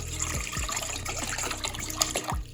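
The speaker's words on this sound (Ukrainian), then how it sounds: "Виливаємо нашу воду в мисочку." Sparkling, strongly carbonated mineral water pours into a bowl in a steady, close splashing stream with fizzy hiss, about two and a half seconds long, with no talking.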